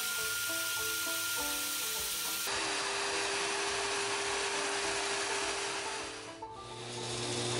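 A belt sander with a 100-grit belt smooths the edges of a knife sheath, giving a steady abrasive whir and rubbing hiss that shifts in tone as the workpiece is pressed and moved.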